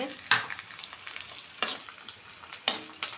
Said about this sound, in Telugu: అది బాగా వేగాలి